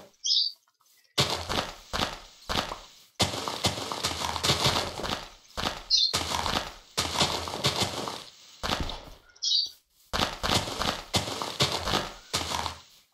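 Minecraft horse footsteps sound as repeated clip-clop bursts in several runs, close and fairly loud, broken by short gaps with brief high chirps between them.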